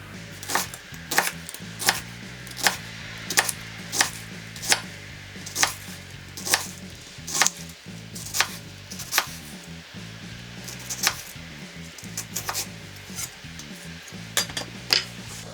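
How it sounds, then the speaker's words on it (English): A knife slices a quarter of an onion finely on a cutting board for beef niku udon, a steady run of crisp, close chops about twice a second, sounding alone with a low background hum. "finely slice the quarter an onion"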